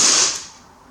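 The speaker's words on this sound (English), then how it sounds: "aiming back on the center of the target as best we can. Squeezing the trigger." A Novritsch SSP-1 airsoft sniper rifle fires a single sharp shot outdoors, a bright crack that fades quickly.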